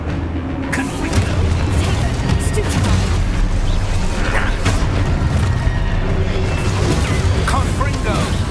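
Hogwarts Legacy gameplay with loud, continuous booming blasts from the Confringo spell, crashing explosions layered densely over an ongoing game soundscape throughout.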